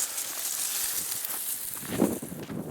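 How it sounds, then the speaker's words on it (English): Gusty wind blows across open desert scrubland, a steady broadband rush with rustling brush, swelling into a louder buffeting gust near the end. "Wind blowing today."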